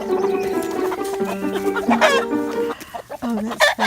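Several chickens cluck close by behind a garden fence, their busy calls overlapping in a steady chatter that fades into sparse, broken clucks near the end.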